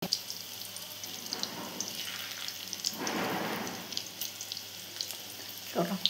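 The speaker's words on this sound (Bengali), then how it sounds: "বড়াটা ভাজা হতে থাকুক" Fish fritters (bora) frying in oil in a home kitchen, a quiet crackling sizzle with swelling bursts as batter hits the oil, fairly soft and steady with no talk.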